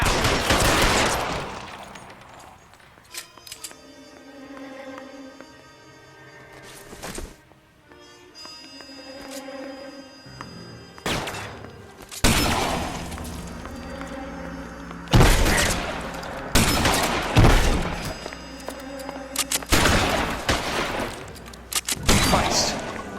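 Gunfire in the crime video game L.A. Noire, with repeated loud shots and bursts scattered across the scene, some isolated and some in quick clusters, over a steady background bed.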